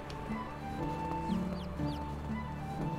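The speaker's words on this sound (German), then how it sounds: "Zwei Hennen haben wir gekriegt." Hens in the medieval farming game Medieval Dynasty give short soft clucks and a few chirpy calls over a steady low ambient hum, fairly faint and scattered.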